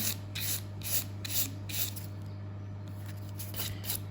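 A nail file rasps over acrylic nails in a steady rhythm of short back-and-forth strokes, close and fairly soft over a low hum, with a brief pause midway.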